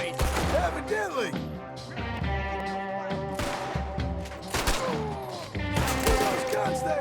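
Gunfire in Red Dead Redemption 2 crackles in repeated bursts of shots and thuds over a dense mix of game sound and music, with voices speaking at times.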